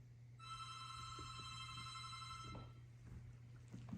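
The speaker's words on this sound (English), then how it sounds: "the silence was interrupted by a phone ringing." A telephone rings in a quiet room late at night, a steady electronic trill lasting about two seconds over a low constant hum, followed by faint movement sounds.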